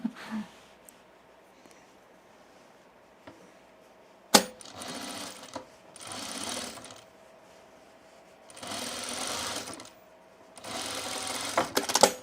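Close by, a sewing machine topstitches a sunblock top in several separate runs of rapid whirring, with quiet handling clicks and a sharp knock between the runs.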